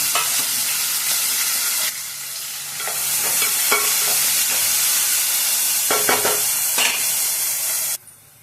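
Sliced onions, green chillies and curry leaves sizzle loudly in hot oil in a pan, a steady broad hiss with scraping stirs, easing briefly before settling and cutting out near the end.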